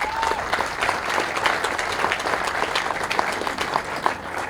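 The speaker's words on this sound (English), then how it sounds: "Give them a round of applause." An audience applauds at the grand opening of a university baseball player development center: sustained, dense clapping with scattered sharper individual claps standing out, fairly close and steady for several seconds, with no speech over it.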